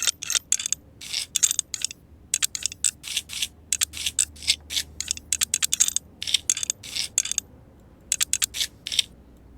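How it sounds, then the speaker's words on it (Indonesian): Rapid ratcheting clicks from a screwdriver driving gold motherboard standoffs into a PC case for an Asus B450 Steel build, coming in irregular close bursts with short pauses and no talking. "kalian mur dulu emas-emasnya, baru kita mur motherboardnya gitu"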